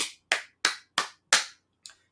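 Six sharp hand claps with short ringing tails, evenly spaced about a third of a second apart, the last one softer, heard alone with no voices.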